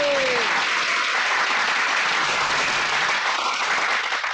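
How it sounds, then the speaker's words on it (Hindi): Crowd at an outdoor political rally bursts into loud, sustained clapping that fills the whole stretch, dense and steady without letup. "बजाओ ताली।"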